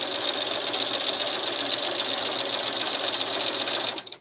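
A sewing machine stitches through a quilted bag with a close, continuous mechanical whir that stops abruptly in the final moment.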